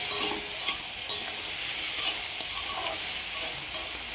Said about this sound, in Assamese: সোৱাদ অনুসৰি নিমখ আৰু হালধি দি ধুনীয়াকৈ লৰাই লৈছোঁ